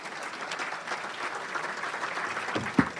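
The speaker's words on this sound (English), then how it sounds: "please give us a round of applause to the team at New Health" An audience applauds the New Health team, giving a steady round of clapping with a few louder claps near the end.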